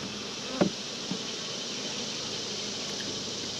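Bees buzz around an open beehive in a steady, continuous drone, with a couple of brief knocks from the hive near the start.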